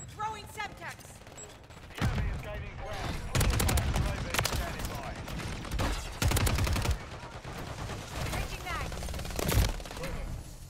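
Gunfire in a Call of Duty MW3 match: bursts of automatic fire and single sharp shots, close and loud, coming in irregular clusters over about ten seconds, with a player talking at times underneath.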